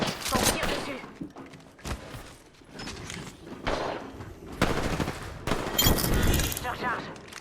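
Video game gunfire in rapid automatic bursts and scattered single shots, loud and close, with heavy impacts running almost nonstop through the whole stretch.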